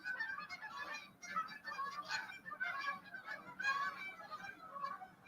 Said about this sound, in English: there's geese flying by. You hear that?